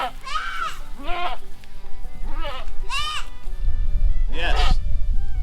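Nubian goats, a mother and her abandoned kid, bleat back and forth in loud, close calls, with four distinct cries spaced about a second apart over steady background noise and a low rumble near the end.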